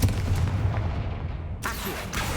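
A Confringo blast spell goes off in a video game, a loud boom with a rumbling tail, then a second sharp burst near the end, with steady low game rumble beneath.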